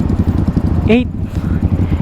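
Several Yamaha XSR155 motorcycles ride together in a group, a steady low engine rumble running throughout, with a brief whistle or whoop cutting through near the middle and people talking over it.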